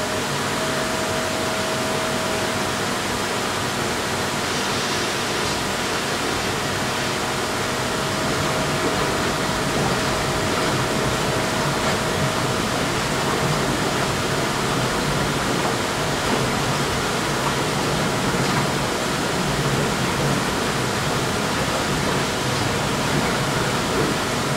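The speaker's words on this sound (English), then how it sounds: "We just add the blowers to the system, which provides us with our jacuzzi jets, so a little bit of noise as the pump goes on." Blowers and a pump drive jacuzzi jets in an equine spa, giving a steady, loud, broadband whooshing roar that runs without a break, with a faint hum beneath it.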